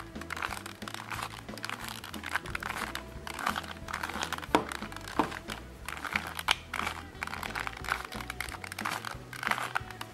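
A 2x2 Rubik's cube being scrambled by hand, with rapid plastic clicks and clattering turns running continuously and close up, with no talking.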